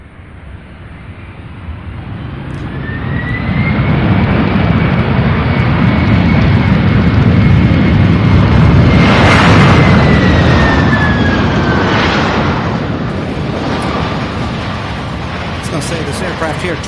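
A jet aircraft roars at Louisville International Airport, a broad loud rumble that swells and holds with a rising whine, then slowly fades; a voice talks briefly over it.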